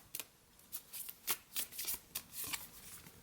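Affirmation cards being shuffled up close, a quick run of crisp riffling bursts that come in uneven clusters, with no other sound around them.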